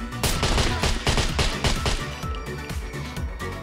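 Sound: gunshots from the video game SCUM

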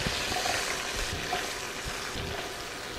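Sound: sliced onions sizzling in hot grease in a skillet

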